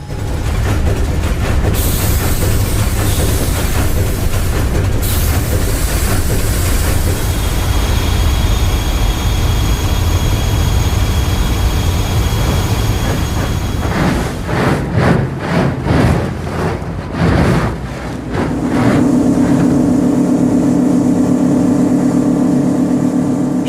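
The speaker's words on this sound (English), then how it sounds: "a full ship's complement of engine room, anchor, and equipment sounds and backgrounds" Ship sounds of an engine room, anchor and onboard equipment: a loud, continuous mechanical roar with shifting layers, a stretch of rhythmic clanking pulses, then a steady droning hum toward the end.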